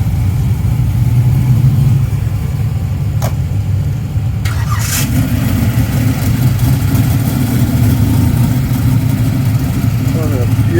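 Mopar cars run down a drag strip at RockyNats, a steady loud engine roar with a sharp burst partway through, crowd chatter mixed in throughout.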